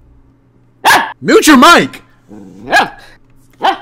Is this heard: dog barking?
yes